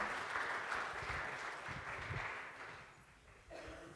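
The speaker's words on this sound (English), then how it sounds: "Can we get a round of applause before our guest speaker comes up here?" Faint, distant applause welcoming a guest speaker at a Franklin school gathering, an even patter of many hands that slowly thins and fades near the end with no talk over it.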